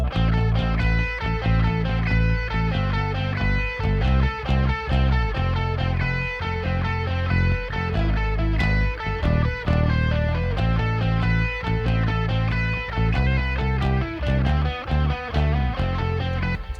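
Dense, steady full-band rock music with a thick sustained distorted electric guitar tone and regular drum hits throughout, loud and continuous with no voices.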